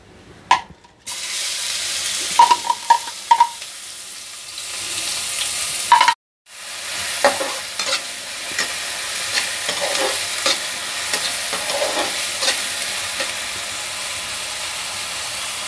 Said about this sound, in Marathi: तेल गरम झालं की आपण त्याच्यामध्ये बारीक कट केलेला कांदा आहे